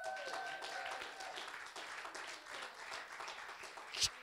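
A church congregation breaks into applause during a French-language sermon, steady moderate clapping from many hands with a faint voice underneath, ending in a brief sharp spike near the end.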